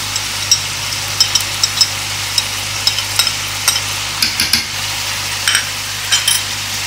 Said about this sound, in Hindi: इनको हम अच्छे से मिक्स कर लेते हैं और थोड़ा सा इसको भून लेते हैं जी